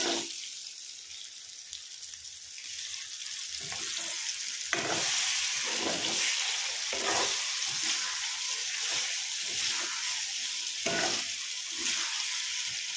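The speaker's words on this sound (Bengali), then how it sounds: "আমার কিন্তু আলুটাও মোটামুটি প্রায় হালকা ফ্রাই যেটা আমরা করে থাকি" Potatoes fry in a pan with a steady, close sizzle, punctuated by repeated scraping stirs of a utensil against the pan.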